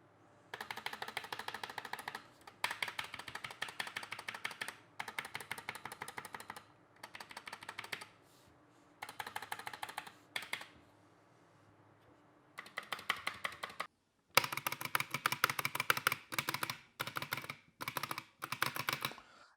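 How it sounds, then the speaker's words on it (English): A GK-61 mechanical keyboard typed on in quick bursts, crisp clacky keystrokes close and fairly quiet, with a rattly, pinging, hollow-sounding spacebar, pausing between runs and getting louder toward the end. "the spacebar sounds a bit rattly to my likings, and it also has a bit pinging and a hollow noise to it"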